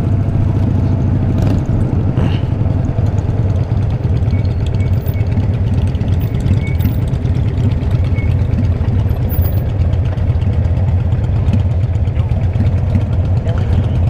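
A Yamaha Virago 535 motorcycle engine idles with a steady, loud, low rumble throughout, close by, with people talking faintly over it.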